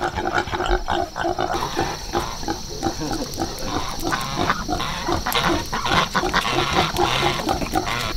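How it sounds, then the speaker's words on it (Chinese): A small white piglet squeals loudly and without pause as it tries to suckle, its shrill, piercing cries filling the whole stretch close by on a farm. "你看，那小猪还想喝奶，"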